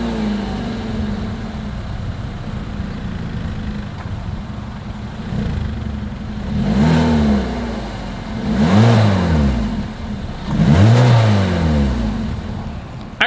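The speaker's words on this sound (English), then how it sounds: "As always, here is that exhaust clip." A 2023 Hyundai Kona engine idles with a low rumble, then revs up three times in succession, each rise and fall of the exhaust note louder than the last.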